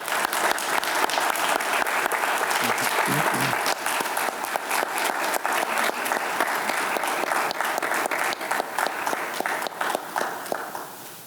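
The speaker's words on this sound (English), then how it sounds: "So please join me in a round of applause" An audience at a school board meeting applauds in a steady burst of close, dense clapping that lasts several seconds before thinning out toward the end.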